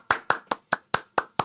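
A few people clap in quick succession, seven sharp, evenly spaced claps over about a second and a half, fairly near and moderately loud with no talk.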